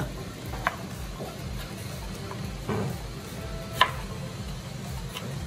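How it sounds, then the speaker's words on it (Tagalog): Knife chopping tomatoes on a board in a home kitchen, a series of light irregular taps, fairly close but soft, over a steady background hiss. "So, hiwain daw ang kamatis."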